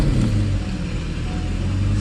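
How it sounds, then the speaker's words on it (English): Mercedes SL R129 engine running with its throttle bodies removed, a loud close steady idle rumble with slight unevenness and a faint whine, no voices. "I'm going to start the car with throttle bodies not on the vehicle."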